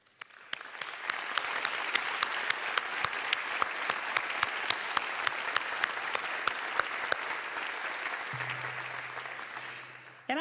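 Sustained applause from a civic gathering honoring community leaders, advisory board members and volunteers, with many hands clapping steadily for about ten seconds before tapering off, and a low hum entering near the end.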